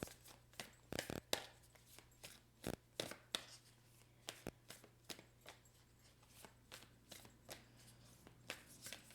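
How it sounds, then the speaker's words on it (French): Tarot cards are handled and shuffled up close in quiet surroundings, giving many sharp riffling snaps and soft slides in uneven bursts, with a faint steady hum behind. "Je vais aller chercher deux autres cartes."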